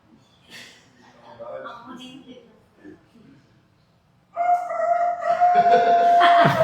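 A voice imitates a rooster crowing with a loud, sustained, rising cry that follows some scattered talk and laughter, sung close during a church service.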